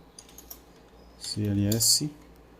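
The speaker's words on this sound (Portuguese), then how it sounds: "aluno Nicolas, vamos CLS aqui, CLS" A few faint, scattered keystrokes sound on a computer keyboard as a command is typed. A nearby voice then speaks briefly over the clicking.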